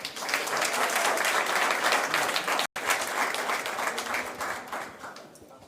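Audience applause at a criminal justice awards ceremony, a dense, steady roar of clapping that fills the room, cutting out for a split second midway, then continuing and thinning toward the end.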